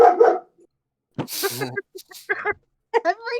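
A dog gives a few sharp barks and yips in short bursts, close and fairly loud, with brief gaps of quiet between them.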